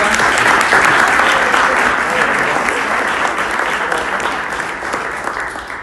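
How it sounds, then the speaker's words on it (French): An audience at a Téléthon gathering in Rouyn-Noranda bursts into sustained, dense applause that starts loud and tapers gently toward the end. "On peut l'applaudir"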